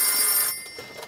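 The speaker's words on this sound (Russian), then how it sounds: "Телефон." A telephone rings indoors with a bright, electronic trill, one loud ring burst that cuts off after about half a second, leaving quiet room sound and no speech.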